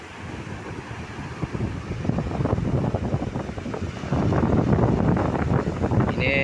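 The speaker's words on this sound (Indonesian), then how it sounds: "Cuaca mulai cerah kembali, cuman angin masih kencang" Strong wind blusters over a village fishing harbour basin with big waves, a steady broadband roar that swells louder in the second half, with faint speech beneath.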